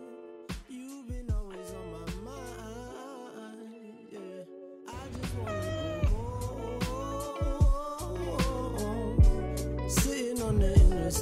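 A kitten meows repeatedly and fairly close, a run of high, wavering cries with brief pauses in a quiet room, no talk.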